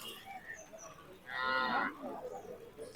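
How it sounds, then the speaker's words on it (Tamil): A single bovine moo, a bull calf, sounds out at a country native-cattle market on the Bhogi festival day, rising clearly over quiet background noise for about half a second before fading. "காளை மாடா கண்ணுக்குட்டி செம்மையா அழகு"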